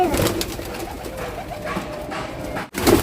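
Pigeons gathered to feed give soft, repeated close coos over a low outdoor background, with a brief drop in sound near the end.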